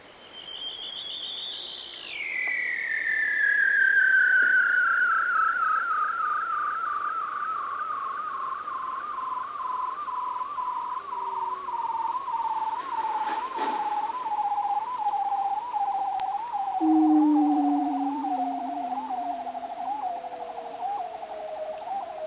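A single bird song starts high, sweeps rapidly downward in pitch over several seconds, then keeps slowly descending in a long continuous trilled tone heard clearly and alone.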